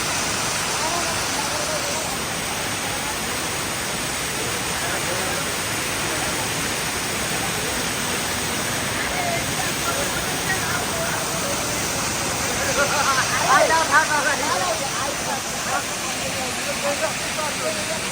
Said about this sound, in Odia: ଉପରୁ ବି ଝରଣା ଆସୁଛି ଦେଖେ, ଉପରୁ ପାଣି ଆସୁଛି ଦେଖେ।